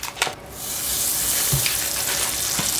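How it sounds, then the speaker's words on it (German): Butter sizzles in a heated frying pan, a steady close hiss with a few small clinks and stirring sounds, no talk over it. "Und wir geben hier in die Pfanne ein bisschen gute Butter"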